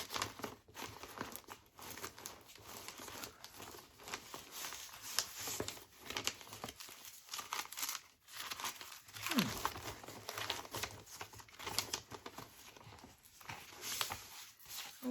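Old tea-dyed paper pages are handled close up, giving soft irregular crinkling, rustling and brushing sounds that come in quiet bursts and continue throughout without talk.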